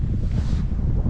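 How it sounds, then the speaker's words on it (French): Gusty wind buffets the microphone outdoors along a hilly cycling circuit, a dense, continuous low roar with no pauses and no voices. "en ce moment il y a du vent quand même"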